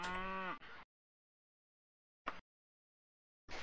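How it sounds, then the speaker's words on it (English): A goat in the video game Daggerfall gives one short, strained, nasal bleat, followed by silence and two brief faint clicks. "It was just a dirty goat."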